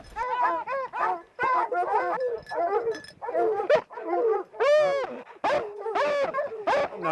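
A pack of hunting dogs bays and barks nonstop at a mountain lion treed above them, with loud, overlapping howling calls packed closely together throughout.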